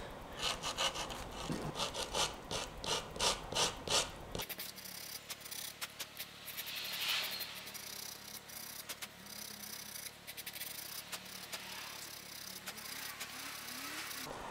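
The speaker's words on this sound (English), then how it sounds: "you want to very gently shave down the high spots" A small sanding block rubs hardened epoxy putty on a foil, quiet rhythmic rasping strokes close up for about four seconds, then a faint steady background hum.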